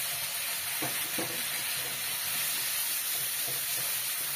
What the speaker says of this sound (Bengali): মশলাটা দিয়ে একটু ভালো করে কষিয়ে নিতে হবে